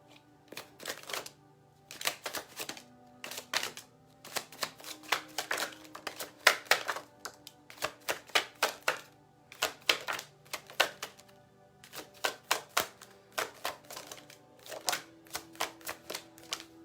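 Tarot cards are shuffled in quick bursts of crisp, riffling snaps, repeated in short clusters with brief pauses between, close by and fairly loud.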